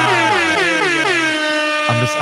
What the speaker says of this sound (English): I realized I had the pot down for the air horn